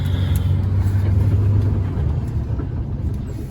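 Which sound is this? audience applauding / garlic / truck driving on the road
truck driving on the road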